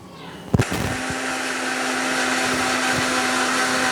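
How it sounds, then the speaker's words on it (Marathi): A kitchen mixer grinder starts up with a couple of knocks and then whirs steadily, grinding ginger, cumin and gram flour with a little water into a paste, the motor hum loud and continuous. "आता हे मी वाटून घेते मिक्सरला सगळं थोडंसं पाणी टाकून हे वाटून घ्यायचं"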